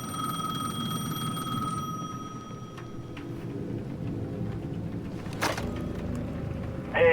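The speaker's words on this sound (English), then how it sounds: "The payphone at the edge of the plaza was ringing again." A payphone rings in the video game Alan Wake 2, a steady electronic trill over a low ambient hum that fades out partway, followed by a sharp click.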